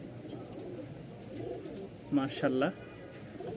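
Johnson bloodline racer pigeons coo softly amid quiet background noise, with a short spoken word over the calls.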